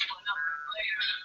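A mobile phone rings during a live news-talk broadcast, a bright warbling electronic ring tone repeating continuously and fairly loud for a second or so, with no one speaking over it.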